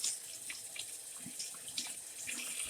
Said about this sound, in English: So now we add our water to it.